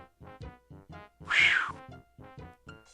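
A cat meows in the Day of the Tentacle point-and-click adventure game: one loud, drawn-out cartoon meow in the middle, framed by short, evenly spaced game sound effects before and after, with no talk.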